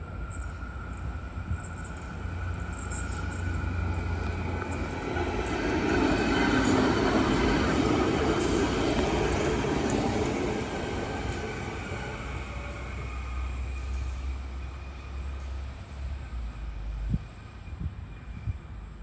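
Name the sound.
light rail tram passing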